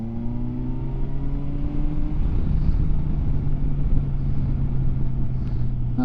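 A Kawasaki Versys 1000 SE motorcycle pulls hard from low revs in fourth gear, its engine note rising steadily into a strong, throaty drone mixed with rushing wind noise.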